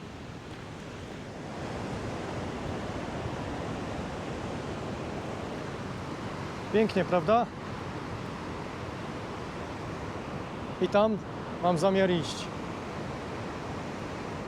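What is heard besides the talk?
waterfall in the Åmotan valley where four rivers meet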